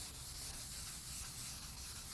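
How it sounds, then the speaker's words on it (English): Sandpaper rubs by hand over a car's painted body panel during paint prep, a quiet, steady, even scratching hiss that continues without a break. "So you'll feel the paper grabs as you're sanding it."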